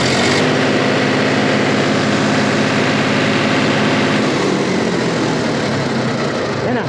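Mahindra tractor diesel engine that had been blowing black smoke, revved hard and held at high RPM, a loud continuous rumbling drone with a slight change in tone partway through.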